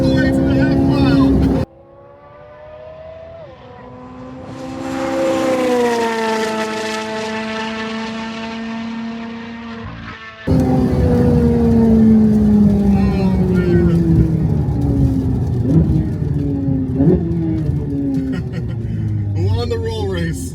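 Loud engine roar from a 670 hp Corvette C8 Z06 racing a 1025 hp electric Rivian truck in a half-mile roll race, a rising drone under excited shouting, briefly cutting out, then surging back strong with continuous wind and road noise.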